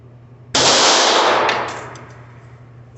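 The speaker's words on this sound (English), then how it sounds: "I guess you could tell I shoot the 9mm pretty damn good" A single loud 9mm handgun shot at a shooting range, a sudden sharp crack that rings and decays over about a second and a half before the range falls quiet.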